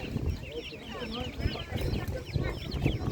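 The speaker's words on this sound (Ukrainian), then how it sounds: "Так, ось такі курчатка." Chickens and small chicks clucking and peeping steadily at close range at an animal market, with people talking over the birds.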